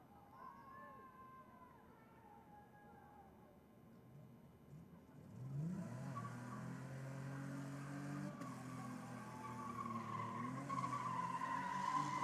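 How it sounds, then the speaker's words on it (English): A Holden Commodore thrashed around a skid pad rises from a quiet distant rumble into close, loud engine revving with rising and falling tones and long tyre squeals. Faint voices are heard under it. "Certainly throwing the Commodore around the pad."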